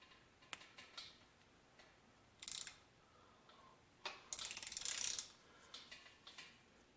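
A wrench clicks and ratchets as crank bolts are tightened on a K20a3 engine, a faint series of sparse ticks and short bursts of clicking, with one longer ratcheting run in the middle.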